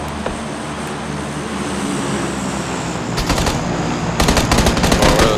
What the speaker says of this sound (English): Oh, where are those shots from?